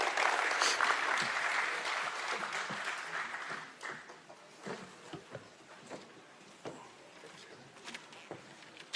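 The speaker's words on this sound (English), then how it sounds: "Round of applause, please." Audience at a Kenya–South Africa business forum in Pretoria applauding the arrival of a head of state to speak, a broad wash of clapping that fades after a few seconds into scattered sparse claps.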